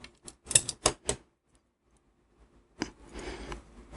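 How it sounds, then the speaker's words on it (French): Battery strip being cut with a pair of scissors during spot-welding work: a quick series of sharp, close snips and clicks, followed by a pause and then rustling handling noise. "Là, on les coupe avec une paire de ciseaux."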